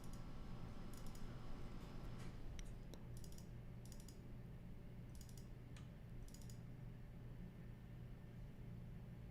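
A computer mouse clicks in several short paired bursts spread across the stretch, crisp and close, over a low steady room hum with no talking.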